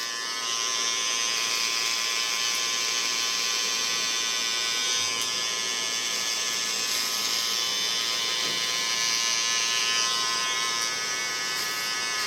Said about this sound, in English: First, start on the end of my clipper blade